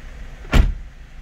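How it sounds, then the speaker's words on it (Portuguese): A 2012 Fiat Linea car door shuts with a single solid thud against a low background hum, close by and with no talk. "E deixa eu fechar a porta aqui só para mostrar para vocês."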